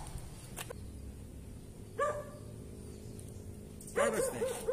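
A German Shorthaired Pointer gives a few short whimpering yelps and barks, one early, one midway and a longer run near the end, fairly close with quiet pauses between.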